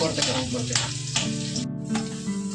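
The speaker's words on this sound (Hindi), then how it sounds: "फ्राई पैन है कोई है तो इसमें डाला है इसने हरी मिर्च और लहसुन को थोड़े सा भुनेगा" Green chilli and garlic frying in a frying pan make a loud, close sizzle that runs throughout, with a few sharper crackles and bursts rising above the steady hiss.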